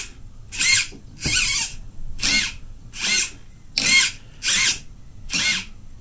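A power drill whirs in seven short bursts while drilling holes to mount a servo in a car build, each lasting under a second with brief pauses between, close and fairly loud.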